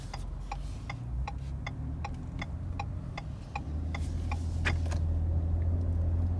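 Steady, evenly spaced clicks from a 2021 Ford F-150 XLT turn signal tick over the low rumble of the truck's engine and road noise.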